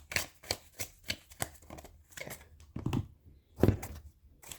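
A deck of tarot cards is shuffled in a run of quick, crisp riffling bursts and soft slaps, close and fairly quiet with short pauses between them and no voices.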